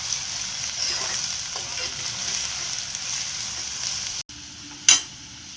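Cabbage and capsicum stir-fry in a hot pan for manchurian, a steady loud sizzle that runs throughout, then briefly cuts out before a sharp clink.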